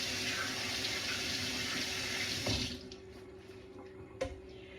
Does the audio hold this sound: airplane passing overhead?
no